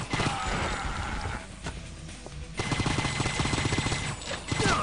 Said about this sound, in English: Oh god, they're quick shooting.